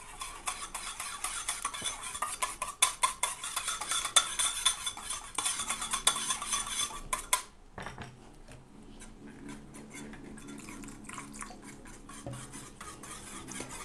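A spoon clinks and scrapes rapidly against a bowl as a hair-care paste made with added water is mixed, giving dense clattering stirring for several seconds that then turns into softer, slower, wetter scraping.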